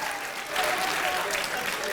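A live audience at a public conversation event breaks into applause, a dense steady clapping that swells slightly midway, with talk over it.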